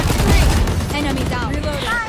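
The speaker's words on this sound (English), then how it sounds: "กูออกมาโดนยิงรัวๆเลยวะ" Sustained rapid gunfire from a VALORANT match, loud and continuous throughout, with voices speaking over it.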